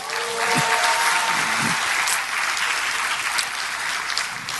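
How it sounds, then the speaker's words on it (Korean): A crowd at the Democratic Party's 70th anniversary ceremony gives a big round of applause for the party chair, a full, sustained wash of clapping that holds steady for several seconds with faint voices beneath. "우리 위원장님께 다시 한번 큰 박수 부탁드리겠습니다"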